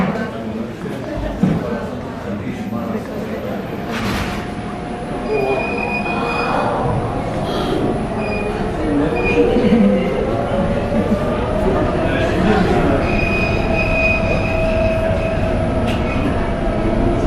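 The Griffith Observatory telescope dome rotates on a rail track, giving a steady rumbling roll with long metallic squeals and wheel screeches over about seventeen seconds, with faint voices underneath.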